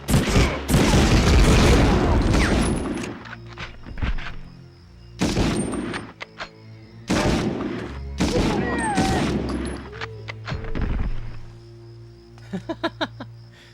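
Grenade blasts and gunfire in Medal of Honor: several loud booming bursts separated by short quiet gaps, with sharp shots and a low hum between them and rapid crackling near the end.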